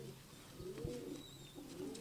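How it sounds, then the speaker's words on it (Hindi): Pigeons in a loft giving soft, low throaty coos, a couple of short rolling calls close by over a quiet room background. "बहुत प्यारे प्यारे कबूतर हैं इनके"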